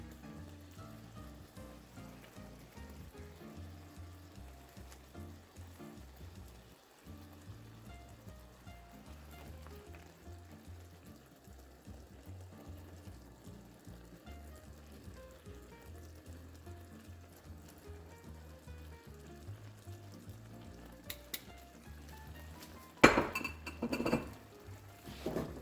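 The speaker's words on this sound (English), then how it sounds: "continue to let this simmer until all of these ingredients come together" Salmon and sauce simmer in a pan on a stovetop, giving a faint, steady sizzle and bubbling that runs quietly throughout, followed near the end by a few louder clinks of utensils against the pan.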